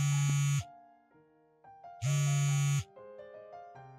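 A phone rings and goes unanswered, two loud harsh buzzing bursts separated by a gap filled with softer electronic tones, near and clear with no talk.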